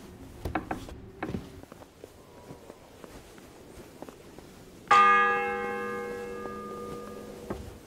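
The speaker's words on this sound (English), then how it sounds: "The bell's ringing for Hans the 5th time." A church bell in Kingdom Come: Deliverance II strikes once loudly and rings on with a long, humming decay, after scattered footsteps and small clatters in the game world.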